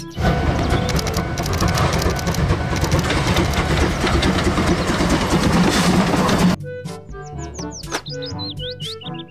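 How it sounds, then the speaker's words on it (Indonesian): A toy train runs with a continuous mechanical whirring and rattling for several seconds, then stops abruptly, followed by brief chirpy sounds. "Kereta Thomas."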